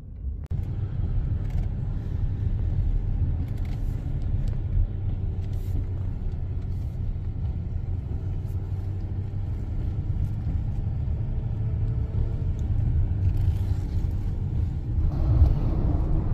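A 2024 GMC Duramax diesel pickup truck drives along a curving road, heard from inside as a continuous low rumble of engine and road noise, steady and moderately loud, with no talking.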